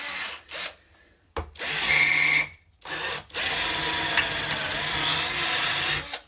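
A cheap Cjrelectrical power drill bores with a drill bit whose shank is bent from the factory, running in loud bursts: two short spins, a longer whining run, then a sustained grinding drive up close.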